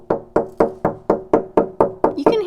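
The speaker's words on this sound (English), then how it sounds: "Now if I go to the back of my instrument, and I'm going to knock around here" Knuckles knocking on the back of a cello's wooden body, about nine evenly spaced hollow, resonant knocks close up, each with a short woody ring that decays quickly.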